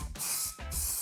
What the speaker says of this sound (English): get a bit of spray glue